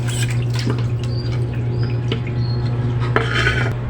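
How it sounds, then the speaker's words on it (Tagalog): Dishes, pots and cutlery being washed by hand under running water, with clinks and taps of utensils and crockery over a steady hum and water noise, closing with a brief splashy clatter. "Tapos na ako maghugas ng pinggan."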